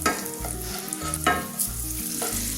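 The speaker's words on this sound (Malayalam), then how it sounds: "ഇതിലേക്ക് മുന്തിരി ചേർക്കാം. ഇതും ഇതുപോലെ തന്നെ ചെറുതായിട്ടൊന്ന് റോസ്റ്റ് ചെയ്തെടുക്കാം." Cashews and raisins roast in a hot pan, giving a soft sizzle with rhythmic scraping and stirring strokes close by.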